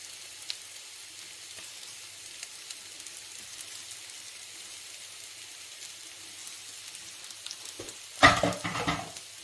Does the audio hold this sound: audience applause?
no